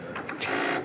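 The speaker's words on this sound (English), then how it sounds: "And it's got a little printer." The small built-in printer of an HP-85 portable computer runs in a brief, close burst of buzzy mechanical whirring and chattering as it prints, with no voices over it.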